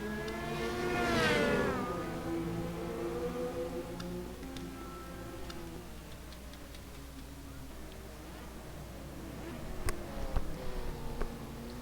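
Indy cars roar off the start of a race on the Daytona road course in a racing video game, engine tones rising and sweeping as the pack accelerates, fairly quiet with a few sharp ticks later on.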